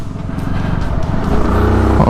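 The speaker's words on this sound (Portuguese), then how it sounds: "Não, esta moto anda bem para caraças." A motorcycle of about 27 horsepower revs hard while being ridden, its engine note climbing steadily, close and loud, with wind rush underneath.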